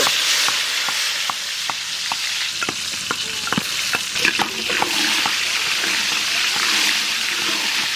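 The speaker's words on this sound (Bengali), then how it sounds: "বেগুন ভেজে নেব।" Eggplant frying in hot oil in a village kitchen, a loud continuous sizzle with a rapid series of sharp spatula clicks and scrapes early on, close up and without speech.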